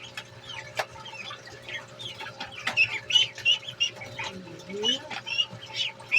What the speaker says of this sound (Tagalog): Ang kulit ng ating mga itik.